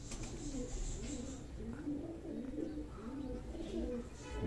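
A male breeder pigeon of a high-flying breed, about two to two and a half years old, coos softly in repeated low rolling phrases against faint background noise.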